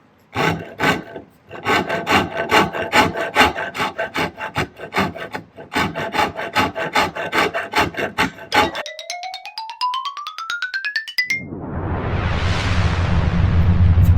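A hand file rasps across the hard wood of a P90 guitar neck being carved, in quick, evenly repeated scraping strokes, pausing briefly, followed by a rising whine and a broad rushing noise.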